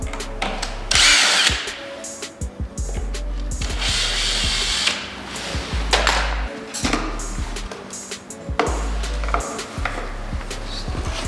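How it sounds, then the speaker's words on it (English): A power drill loosens screws on the control box of a Twister T2, several loud whirring bursts of a few seconds each, separated by brief pauses and small clicks. "we just pop these 4 screws up on the control box"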